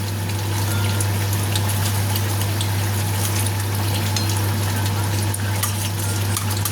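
Fried ilish fish going into a boiling vegetable curry: a steady, close bubbling simmer with soft sizzle throughout, over a constant low hum, and no talking.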